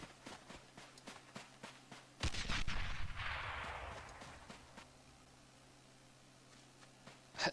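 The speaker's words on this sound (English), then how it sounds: "Grenade coming in." Gunfire and a grenade blast in the Men of War Assault Squad 2 video game: scattered sharp shots, then a loud explosion with a decaying rumble, faint further pops before another shot at the end.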